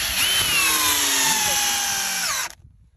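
A power drill drives a full-thread self-tapping spacer screw into a wooden board on roof battens, a loud continuous whining motor that slows slightly in pitch, then cuts off abruptly near the end.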